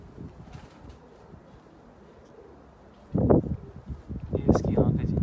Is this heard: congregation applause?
no